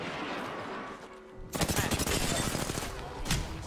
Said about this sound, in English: Dr. Maggie, how is she still shooting me